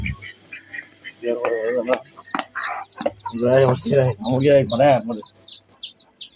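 Chickens and ducks cluck and quack in a rapid, irregular series of calls, near and loud, with quieter chirps scattered between them.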